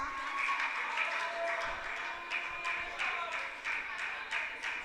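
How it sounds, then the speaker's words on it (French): A quiz-show audience in Cap-Haïtien applauds a school team, with steady, moderately distant clapping that carries on for several seconds in a broad wash and no talk over it. "Vos applaudissements pour l'équipe, s'il vous plaît."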